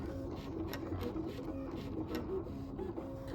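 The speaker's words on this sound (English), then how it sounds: "Go back to your computer and click start, and it should start your cutting process." A LOKLIK iCraft cutting machine cuts HTV vinyl with a quiet, steady mechanical whir and repeated short motor tones, like a small printer carriage moving back and forth.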